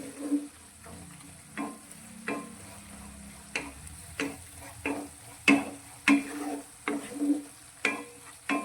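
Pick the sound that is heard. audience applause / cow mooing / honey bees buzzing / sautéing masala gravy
sautéing masala gravy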